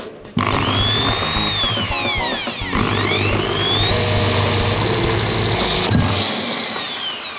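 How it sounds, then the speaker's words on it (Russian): A power drill fitted with a tile bit whines loudly and steadily while drilling into a glass light bulb, its pitch dipping and recovering midway and again near the end before stopping. "И теперь аккуратненько сверлим отверстие."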